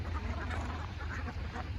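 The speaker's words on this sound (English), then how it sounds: "He is just recording this beautiful pack of geese here." A flock of geese calls outdoors in a steady, overlapping chorus of honks and quacks across the whole stretch, fairly close and continuous with no talk.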